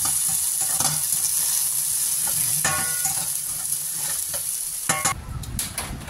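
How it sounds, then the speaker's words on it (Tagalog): Potatoes fry in a pan with a little oil for corned beef, giving a continuous close sizzle broken by scraping and stirring knocks, with the hiss easing off toward the end. "Frying potato for corned beef."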